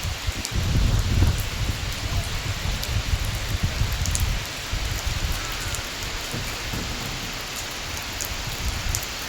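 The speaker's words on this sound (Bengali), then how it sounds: "মালয়েশিয়াতে বৃষ্টি হচ্ছে দেখতেই পাচ্ছ আর বৃষ্টির সঙ্গে একটু হাওয়াও ছেড়েছে" Rain falling in Malaysia with a little wind after a hot spell, a steady broad hiss of drops on surfaces, gusting louder early on and then settling into a constant even patter.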